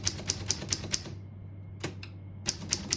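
Crisp keystrokes on a 1938 Corona Standard vintage portable typewriter, a steady run of sharp metallic clacks, a pause, then more strikes, close and clear with no talking.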